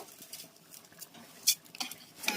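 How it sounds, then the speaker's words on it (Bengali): Rice is stirred in a pan with curry leaves for chicken biryani, with quiet scraping and clinking of a utensil over a soft, faint sizzle. "এখন আমি এই চালটা কিছু সময় ভালো করে ভেজে নেব"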